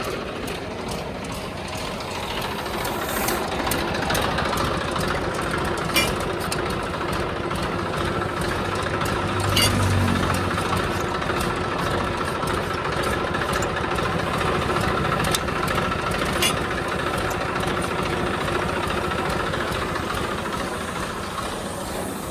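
An old Swaraj 855 tractor engine idles steadily in a field readied for soybeans, a continuous close, loud rumble with faint mechanical rattle and no speech.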